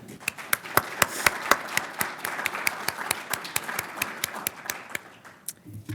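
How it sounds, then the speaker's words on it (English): Applause for three honorees at an awards event, sparse and distinct claps from a small group in a fairly regular rhythm, thinning out toward the end. "Let's give one more round of applause for our three wonderful honorees."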